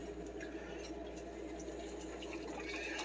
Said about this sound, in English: I'm adding about 70 more mils of water